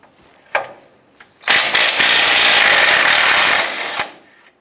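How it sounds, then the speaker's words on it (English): A 21mm socket on a power tool loosening a control arm nut on a 2004-2012 Chevy Colorado front suspension, with a few clanks, then a loud sustained whirring rattle lasting about two seconds before stopping, with no talking. "Using a 21mm wrench on the bolt head and 21mm deep socket, go ahead and loosen and remove the nut."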